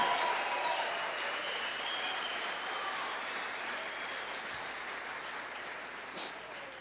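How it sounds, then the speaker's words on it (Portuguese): A church congregation applauding during a sermon: steady, dense, sustained clapping from a large crowd that fills the whole stretch at an even loudness, with no clear speech on top. "Dá um grito de glória aí, um aplauso a Jesus"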